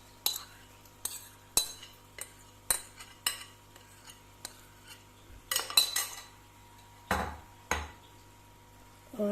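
A spoon knocks and scrapes against a pot while soaked dates are mixed and roasted for khajoor halwa, giving a run of irregular metallic clinks and a few louder bangs over a low steady hum.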